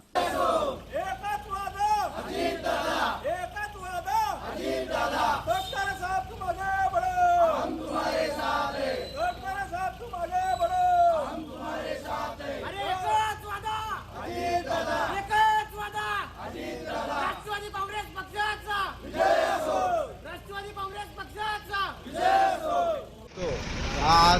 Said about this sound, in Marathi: संपर्क कार्यालयासमोर जल्लोष करण्यात आला